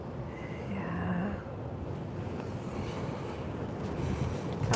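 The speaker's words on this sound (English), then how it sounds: "It's really windy." Strong wind buffeting a cruise ship deck on a Mediterranean sailaway from Kusadasi, a continuous low rumbling roar with microphone gusts and faint murmuring voices beneath.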